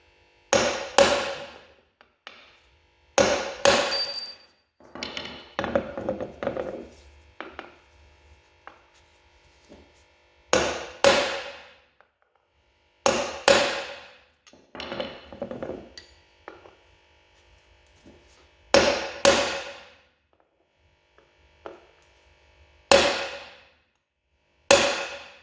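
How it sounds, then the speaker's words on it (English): Metal punch struck with a hammer to drive out a front upper ball joint on a 1975 Corvette Stingray under restoration: groups of sharp, loud ringing blows in bursts of two or three, with short pauses between them. "So I got the right size punch there, so let's try and hit it,"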